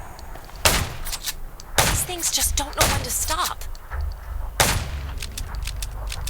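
A few loud, sharp gunshots ring out at irregular intervals in a zombie scene in the game Undawn, with someone speaking between them.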